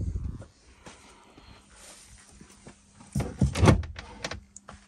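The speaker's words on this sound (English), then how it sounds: "Pillarless doors." Pillarless door of a BMW 335i E92 coupe handled in a quiet interior, with faint soft clicks first and then a louder cluster of mechanical clunks and rustles toward the end.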